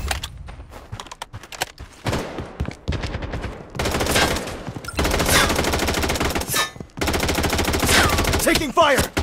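Gunfire in the mobile shooter Blood Strike crackles in rapid automatic bursts, loud and close, broken by short pauses and sharp single shots, with game effects layered over it.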